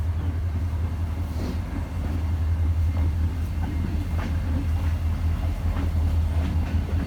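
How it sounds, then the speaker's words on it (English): A train rumbles past at a distance beside a cemetery, low steady roar with faint rhythmic clatter of wheels, no voices. "Oh, and there's a train that's going by."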